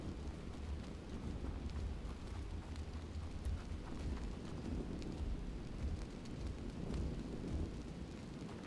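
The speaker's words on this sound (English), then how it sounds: "What is this stomping I hear?" Heavy creature stomping through the terrain in the survival game ARK, a Dazungatherium, heard as a continuous low, dense rumble of thudding footfalls with a noisy, storm-like texture throughout and no talking.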